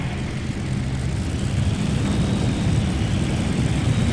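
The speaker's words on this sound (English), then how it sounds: "2 more Allison aircraft engines on board as he comes to the line." Modified tractor puller named P-38 Lightning, carrying multiple Allison aircraft engines at a 1999 7,700-pound class pulling event, gives a loud, steady, deep engine roar that stays heavy and unbroken throughout.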